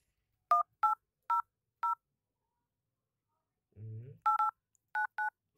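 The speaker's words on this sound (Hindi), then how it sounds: "यहाँ पे मैं एक नंबर डायल करता हूँ।" A Redmi 3S smartphone sounds clear keypad dialing tones while a Jio customer care number is entered. Four short beeps come first, then a brief low burst, then four more beeps. The tones are close, clean and isolated against silence.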